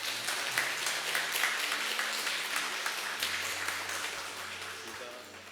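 Congregation applauding during a Sunday church service, a steady wash of many hands clapping at moderate distance, with a low hum and faint voices underneath.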